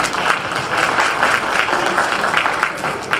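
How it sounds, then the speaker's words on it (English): A room full of people at a community meeting with the city mayor gives steady, warm applause. Dense, even clapping continues throughout at a fairly loud level. "please welcome with a warm round of applause, Ms. Spiropoulos."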